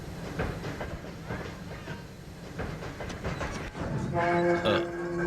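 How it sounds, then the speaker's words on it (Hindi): A passenger train pulls away from a station platform in a film scene, a continuous low rumble of rolling wagons building in loudness, with a sustained tonal horn-like drone toward the end under station ambience. "ओह गॉड, आखिरी चल पड़ी। वैसे आजकल की ट्रेन बहुत लेट छुटती है"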